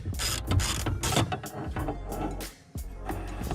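A ratchet with a 12 mm socket working a stubborn old bolt on a Mazda Miata, rapid close clicking pawl bursts with brief pauses and a short gap near the end.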